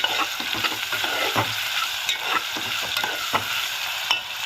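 Potato and carrot pieces are tossed and stirred in a pan, with rhythmic scraping strokes and clatter over a bright, continuous frying sizzle, close and unaccompanied by speech.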